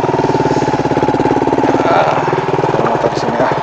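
Motorbike engine idling close by in a cabbage field, a loud, steady rhythmic chugging throb that runs unbroken throughout.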